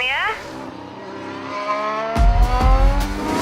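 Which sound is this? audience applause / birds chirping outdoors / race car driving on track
race car driving on track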